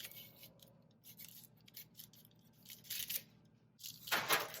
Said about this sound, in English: use a knife to cut through your parchment paper